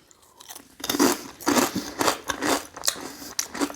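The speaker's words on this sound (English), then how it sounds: "here's the taste of the Frito." Fritos corn chips being eaten up close, loud rhythmic crunching bites and chewing in repeated bursts, with no talking.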